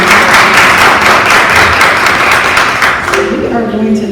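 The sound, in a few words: audience applause for panel partners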